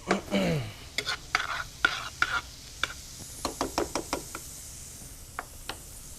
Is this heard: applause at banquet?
no